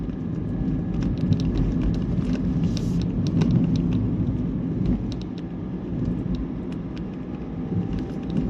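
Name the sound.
car driving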